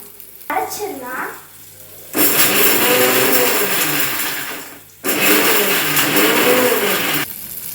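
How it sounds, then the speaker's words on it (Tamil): Kitchen mixer grinder grinding coconut paste for prawn gravy runs in two long, loud whirring bursts with a brief pause between them, after some quieter handling noise at the start. "இப்போ மிக்சியில் அந்த பேஸ்ட்டையும் நம்ம நல்லா அரைச்சிட்டோம்"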